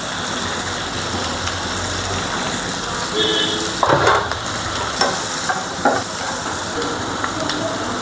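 Chopped onion and green chilli fry in hot oil with a steady, loud hiss and sizzle, broken by occasional stirring scrapes and sharp spits.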